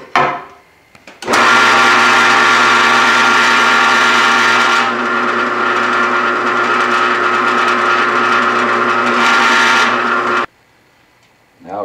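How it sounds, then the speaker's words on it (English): A loud drill press whine starts abruptly, runs steadily for about nine seconds with a slight pitch drop partway while drilling a hole in a wooden bowl blank, then cuts off into near silence. "Now could put a hole in the middle for my screw that I'll put in my chuck on the lathe. So over to the drill press."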